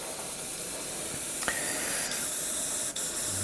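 Airbrush blasting water straight through to clean the brush between colours, a steady close hiss of spray running continuously with a couple of brief sputters.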